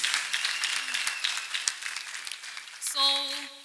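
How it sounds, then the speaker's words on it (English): Brief burst of clapping from a group, dense and close, with a short musical tone sounding near the end. "Let us clap for Master Jesus"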